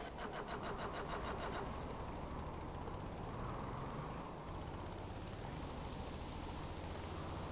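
A car engine in a video game drones steadily after a downshift, a continuous low rumble with a rough, buzzy edge and no talking.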